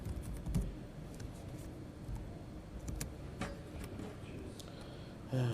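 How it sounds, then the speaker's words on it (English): Keys on a Lenovo computer keyboard clatter in quick, uneven bursts of close clicks, continuing steadily throughout with one heavier keystroke near the end. "a nice Lenovo keyboard."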